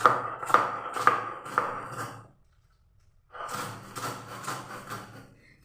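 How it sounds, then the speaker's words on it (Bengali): Dried lentil bori being crushed on a stone grinding slab (shil) for brinjal bori bhorta: a series of close, sharp grinding knocks and scrapes, then a brief pause before more continuous rough grinding resumes. "এবার শিলের মধ্যে আমি বড়ি দিয়ে দিচ্ছি, দিয়ে গুঁড়ো করে নিচ্ছি"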